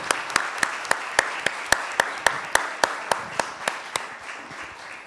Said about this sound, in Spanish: Le damos un fuerte aplauso entonces y que le vaya muy bien, profesor